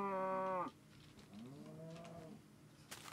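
A cow in the video game Minecraft gives two low, drawn-out moos, the first loud and short, the second softer and wavering, with nobody talking.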